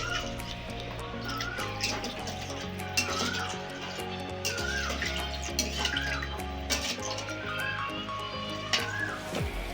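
Water poured into a vegetarian dhoka curry in a pan, a continuous close pouring and splashing that runs throughout under a low background hum, with no talking.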